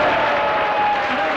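An audience in Reims applauds during a 1966 televised radio quiz game, a dense, even burst of clapping throughout, with a voice faintly mixed in.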